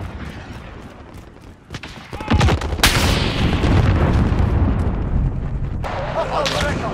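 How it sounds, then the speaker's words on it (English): Precision airstrike explosions rumble in the video game Modern Warfare 2019, with heavy booms rolling in around the midpoint and sustained loud blasts and debris layered over continuous battlefield noise. "Friendly precision airstrike inbound."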